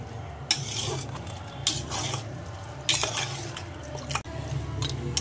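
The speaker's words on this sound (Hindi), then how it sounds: "मटन को भी अच्छे से मसाले में भूनना है" Mutton frying and being stirred in spices in a pot for biryani, with a low sizzle under repeated scrapes and clinks of a utensil against the metal, close by and with no talk.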